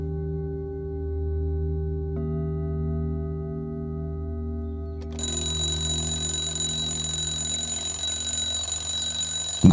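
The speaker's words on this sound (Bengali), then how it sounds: "ভোর পাঁচটায় সেই অ্যালার্ম বাজলে মুরারিবাবুর ঘুম ভেঙে গেল" An alarm clock bursts into continuous, loud, shrill ringing partway through, following a quieter stretch of steady low humming tones in a dramatised scene.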